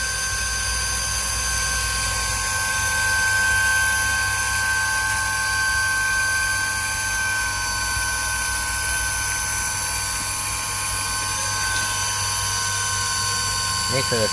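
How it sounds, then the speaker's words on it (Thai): A repaired household water pump runs normally with a steady, unchanging motor hum and whine, close and continuous throughout, with a faint rattle near the end. "ปั๊มที่ทำงานเป็นปกตินะครับ"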